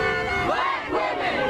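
A crowd at a Black Lives Matter street protest chants and yells together in a loud, sustained roar of many voices close by.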